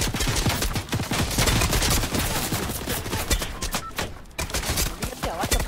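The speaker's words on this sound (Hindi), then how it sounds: "मिनी गन की आवाज़ कैसी है?" Minigun fire in an arena trios shooter game, rapid continuous bursts of gunfire rattling close and loud across the whole stretch with only short gaps.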